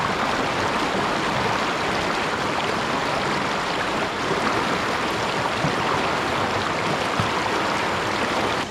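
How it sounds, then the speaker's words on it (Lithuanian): A jungle waterfall and stream in Malaysia rush in a steady, loud broadband roar of falling water, continuous and close, with no voices. "tolumoje girdžiu kur kas didesnio krioklio šniokštimą"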